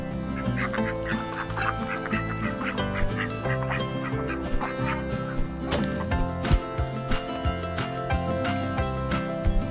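Duck quacking in the video game Bear Simulator, quacks and honks buried in a dense, loud, continuous bed of game music and noise throughout.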